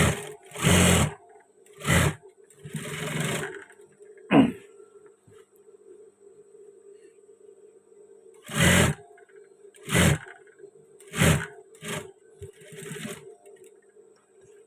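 A sewing machine stitches trouser fabric in short, loud, close bursts of whirring separated by pauses, with a steady faint hum between runs and a brief thump near the middle.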